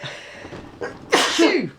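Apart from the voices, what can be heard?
sneeze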